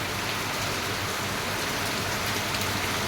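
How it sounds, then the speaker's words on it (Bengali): Heavy rain pouring down on a street near a house gate, a dense, unbroken hiss of drops that stays steady and fairly quiet throughout. "একদম বৃষ্টি, মানে সেই হারে বৃষ্টি হচ্ছে।"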